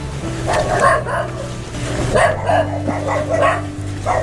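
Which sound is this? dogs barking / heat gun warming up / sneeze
dogs barking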